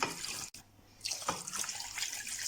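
Water running from a tap into a mug with a splashy, hissing flow that cuts out briefly, then resumes and fills the mug steadily; no talking.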